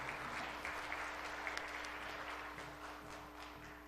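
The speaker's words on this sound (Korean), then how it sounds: "뜨거운 박수로 환영해 주시 기 바랍니다." A church congregation applauds at a Sunday worship service, a steady wash of clapping from many hands in the room over a low constant hum. The clapping stays even and moderately loud throughout.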